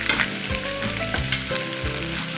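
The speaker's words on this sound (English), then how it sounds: "we're going to saute this until it's nice and brown" Cubed pork tenderloin sautéing in a pan: a steady, close sizzle and crackle of frying meat, broken by several low scraping stirs at irregular intervals.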